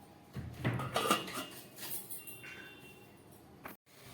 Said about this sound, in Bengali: এবার আমি ডালটাকে 2-3 মিনিটের জন্য ঢাকা দিয়ে গ্যাস বন্ধ করে দেব।